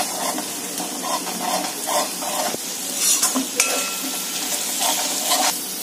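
Turmeric and coriander powder being stirred into a cooking pan for misal pav, with a light sizzle under a repeated scraping rhythm of the spoon and an occasional sharp clink of metal.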